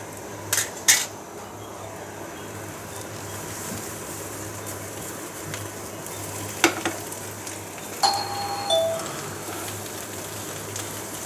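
Watermelon rind patori being flipped in a covered kadai: a few sharp metallic clinks and scrapes of utensil on pan near the start and middle, over a soft, steady low sizzle.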